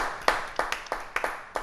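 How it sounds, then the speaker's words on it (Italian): A studio audience on an Italian Sunday TV show claps in scattered, uneven bursts, several sharp hand claps rising over a soft murmur at moderate distance, with no voices over it. "l'applauso è spontaneo"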